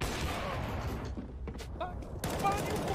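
Gunfire in the video game CS:GO, with rapid bursts of shots and sharp cracks over a noisy match background, briefly dropping quieter before firing resumes.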